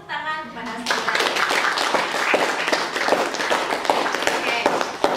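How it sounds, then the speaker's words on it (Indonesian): An audience breaks into steady clapping after a short spoken introduction at a university teaching-certification session, the applause continuing loudly and evenly to the end. "Sekali lagi kita beri tepuk tangan kepada saudara."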